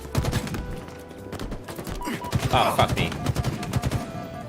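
Rapid bursts of video game gunfire crackle through a firefight, dense and loud with overlapping shots, while a man swears briefly over the shooting.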